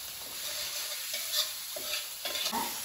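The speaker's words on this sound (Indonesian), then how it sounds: "Digoreng bumbunya" Spice paste for sayur lontong fries in hot oil, a close steady sizzle with soft stirring scrapes from a utensil moving through the pan.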